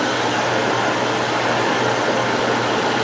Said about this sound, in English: I have 3 heat settings and 3 fan settings on my blow dryer.